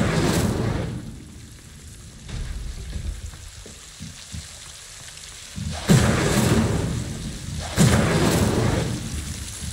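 Spell effects in Hogwarts Legacy, the Incendio fire spell firing as two loud, broadband bursts with a crackling roar, set against a rumbling, noisy game soundscape.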